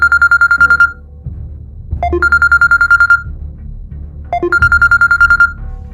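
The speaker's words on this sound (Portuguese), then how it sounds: "quando de repente o telefone tocou" A telephone rings in three bursts of rapid electronic trilling with short gaps between them, loud and close over a low background hum, part of a dramatized radio story.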